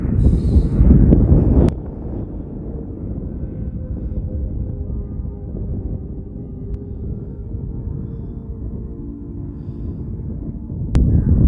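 Steady broadband wind rush buffets an Autel Nano Plus drone flying into a headwind, a continuous roar that stays even for most of the stretch, with louder gusts at the start and end.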